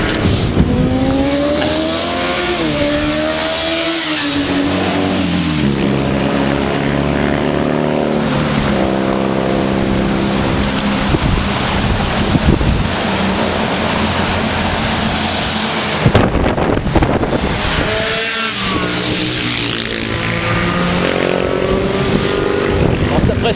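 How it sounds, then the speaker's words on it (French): Motorcycles roaring past on a road near Èze village on the way from Nice, a loud, continuous engine drone with repeated rising and falling pass-bys, under occasional talk. "C'est impressionnant là, ces motos qui passent"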